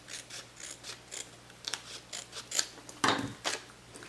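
Paper being trimmed with scissors for a junk journal notebook: a string of short, close snips and rustles, with a sharper cut near the end, no talking.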